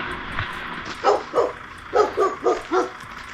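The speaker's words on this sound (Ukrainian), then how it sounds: "Собачки гавкають." Several dogs bark in quick bursts from a moderate distance near a gated yard where a long-haul truck waits, with a steady engine hum beneath.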